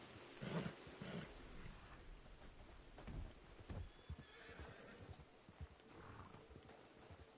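Horse hooves clip-clop and a horse whinnies in Red Dead Redemption 2, quiet game sounds with uneven hoof steps and a short neigh.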